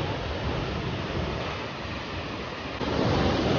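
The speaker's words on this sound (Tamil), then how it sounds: "அவ்வளோ தண்ணி வருது" Water flowing strongly at Kanthalloor: a dense, steady broadband rush that rises slightly louder near the end, with no voices.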